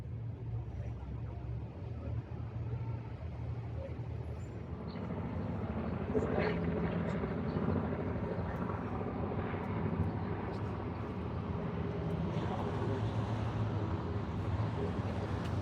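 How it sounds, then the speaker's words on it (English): A low, steady drone of several helicopters flying over New York City rumbles overhead, growing slightly louder midway and holding as a continuous distant roar. "Lots of helicopters fly over."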